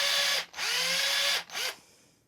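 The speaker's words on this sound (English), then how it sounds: "And this is a 5/16 inch bit, a little big. So I'm going really careful, so not to go all the way through." A power drill fitted with a 5/16 inch bit bores holes into a cherry wood fishing lure, whining loudly in two bursts with a brief pause between them, then winding down to quiet.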